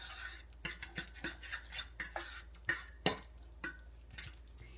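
Tuna salad with salt and seasoning is stirred in a bowl, a series of soft scraping and rubbing strokes at an uneven rhythm, close and quiet.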